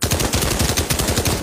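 Rapid automatic bursts from an MG 34 or MG 42 machine gun in the VR shooter Pavlov, loud and continuous with a fast, even rhythm of sharp cracks and no talking.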